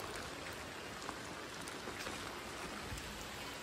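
Rain falling at Marleshwar in Ratnagiri, a dense, steady hiss of drops pattering on surfaces close by, continuous and fairly loud with no talking.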